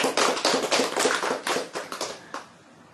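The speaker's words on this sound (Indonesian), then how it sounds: "Tepuk tangan ya" A small audience claps at a talk, making a brief burst of loud, close hand claps that quickly thins out and fades.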